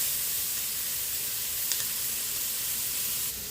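Bitter melon and tomatoes cooking down in a pan, producing a steady soft sizzle and steamy hiss close by, with one brief sharper crackle partway through and no talking.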